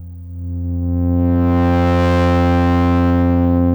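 A synth patch in FL Studio plays one sustained, rich harmonic tone that swells in, with reverb and delay spreading a shimmering wash above it, loud and steady with no speech.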